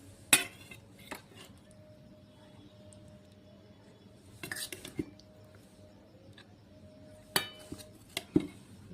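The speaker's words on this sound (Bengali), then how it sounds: "চলো মেয়েকে এবার খাবারটা বেড়ে দিই" Potato curry and pea kachori are served onto a plate with scattered clinks and knocks of spoon against dishes, a few sharp taps standing out over a quiet room background.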